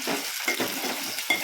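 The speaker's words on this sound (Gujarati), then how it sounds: "બળી ગઈ છે ડુંગળી ઘાએ ઘા તળાઈ ગઈ છે" Chopped onion fries in hot oil in a kadai, a loud close sizzle broken by several bursts of stirring and scraping, with no voices.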